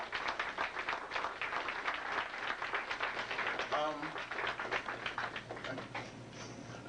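Audience applause patters along for several seconds, moderately loud and even, with a voice briefly cutting through partway.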